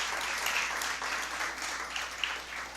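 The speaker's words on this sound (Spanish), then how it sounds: "Pero dale un fuerte aplauso al Señor." A church congregation claps together in sustained applause, a dense, even patter of many hands heard from within the room, moderately quiet and continuous.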